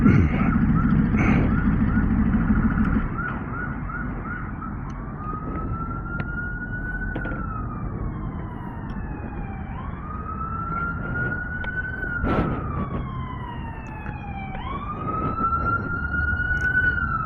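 A police car siren wails in long rising and falling sweeps, loud and close, over a steady rumble of road and wind noise that is heaviest at the start.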